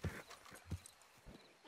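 Horse hooves in Red Dead Redemption 2, heard as a few heavy, uneven thuds spaced over a second and a half, close and fairly faint, with no talk over them.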